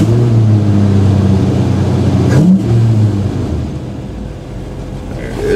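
The engine of a 1984 Chevy K20 truck runs on a January day with the choke still needing adjustment, giving a loud, close, rough idle with one quick rev near the middle before it settles back and dips.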